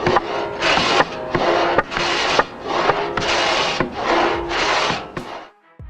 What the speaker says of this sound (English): The remaining half of the oak log is sawn precisely along the chalk lines snapped earlier.